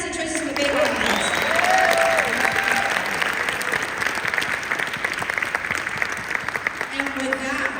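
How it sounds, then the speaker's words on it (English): An audience claps for Lance and Tracy Smith, a broad, sustained round of applause that holds steady throughout, with some voices and a faint tonal sound drifting over the clapping. "Can we give Lance and Tracy Smith a big round of applause?"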